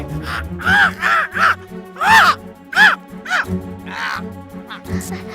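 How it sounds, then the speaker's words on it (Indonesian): A black bird in an animated children's series caws in a string of harsh, rhythmic calls, loud and close, with voice-like tones running through them. "Burung hitam."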